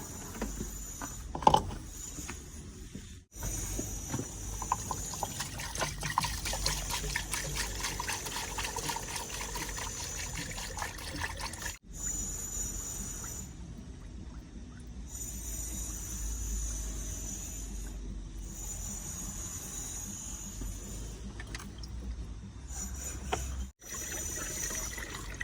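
Water trickles and pours into a Vauxhall Corsa cooling system, a faint, continuous liquid flow with intermittent clunks and mechanical handling noises across a long stretch.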